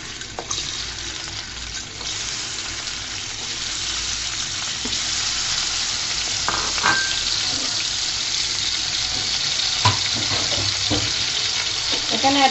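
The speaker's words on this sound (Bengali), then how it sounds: "দিয়ে আলুগুলাকে ভেজে নিব বন্ধুরা" Potatoes fry in soybean oil in a pot with a loud, continuous close hiss that stays steady throughout, with a few faint clinks and stirring knocks scattered through it.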